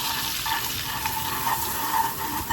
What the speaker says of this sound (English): Really mix it up. This is basically making a roux.